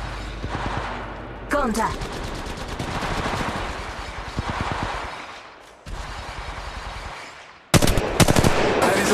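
Bursts of automatic gunfire in the shooter game Apex Legends crackle in rapid volleys with short gaps, loud and close, while a voice speaks briefly over the shots.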